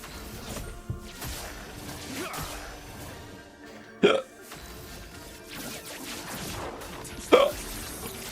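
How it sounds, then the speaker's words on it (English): A single sharp hiccup rises out of steady game sound and commentary, with another brief jolt like it a few seconds later. Both are loud and short, and a voice talks over the background. "Hiccup."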